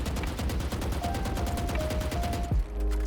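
The Vandal rifle in VALORANT sprays a rapid, evenly spaced string of about sixteen loud shots at a 30-meter range, then stops abruptly, leaving a short quiet tail.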